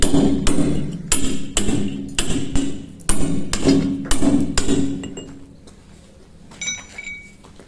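Hand hammer striking a manual point chisel while finishing a stone carving: about a dozen sharp metallic clinks in a steady rhythm, close and loud, then fading to a few lighter taps near the end.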